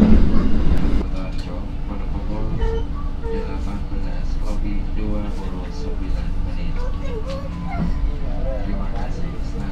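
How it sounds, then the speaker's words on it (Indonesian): The Gaya Baru Malam Selatan passenger train arrives at Kutoarjo station with a steady close rumble of wheels and carriage noise throughout, and a louder thump at the start. "Kereta Gaya Baru Malam Selatan tiba di Kuto Arjo awal 3 menit"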